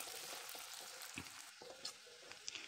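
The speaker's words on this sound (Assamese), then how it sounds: "এতিয়া পিঁয়াজখিনি অকণমান ৰঙচুৱা হোৱালৈ ফ্ৰাই কৰি লৈছোঁ।" Finely chopped onion, with green chillies already added, fries in oil in a pan until lightly browned for a chickpea kofta curry, giving a steady faint sizzle with occasional stirring scrapes and small clicks.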